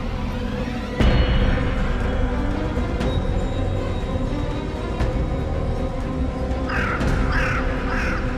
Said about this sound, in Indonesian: Kok suara burung itu lagi?